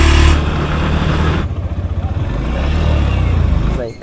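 A Yamaha FZS V3 motorcycle, just started after sitting unused for 90 days, runs with its idle creeping up on its own, a loud close steady engine drone with a brief break near the end.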